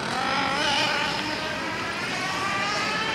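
Car moving along a city street, a steady broadband roar of tyres and engine filling the whole stretch at close range, with no pause and no voices.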